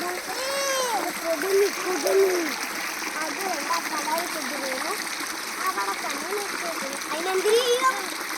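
Children splash in water at close range while lively, excited voices talk and shout over a constant watery wash throughout.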